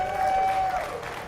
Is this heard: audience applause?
yes